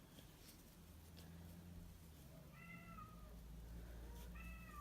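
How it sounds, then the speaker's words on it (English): A house cat meows faintly a few times in the background, with soft, brief calls near the end over a low room hum. "you can probably hear my cat meowing"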